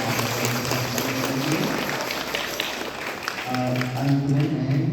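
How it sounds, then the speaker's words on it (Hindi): Wedding guests clap together in a steady, sustained round of applause, with a voice and crowd murmur running underneath throughout. "हम लोग सभी के लिए एक बार जोर से ताली बजा"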